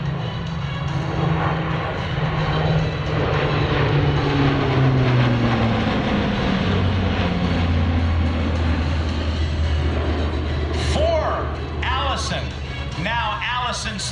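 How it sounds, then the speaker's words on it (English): A Lockheed C-130 Hercules with Allison/Rolls-Royce turboprop engines passes by, a loud sustained drone with falling pitch as it goes over, while people talk nearby. "Now Allison/Rolls-Royce airplane engines power this aircraft."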